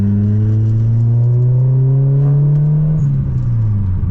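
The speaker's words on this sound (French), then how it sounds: "Ah, on a entendu la petite dump. Ça fait toujours son petit effet." Inside a Peugeot 406 2.0 turbo, a loud, steady engine drone rises under acceleration, then breaks off near the end with a short airy whoosh from the turbo dump valve as the revs drop.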